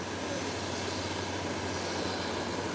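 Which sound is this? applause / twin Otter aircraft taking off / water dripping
twin Otter aircraft taking off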